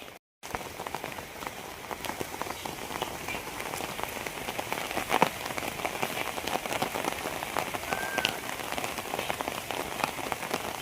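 Steady rain patters down on a surface, a dense, even hiss of drops that continues throughout with no voices, while a male peacock sits in the rain.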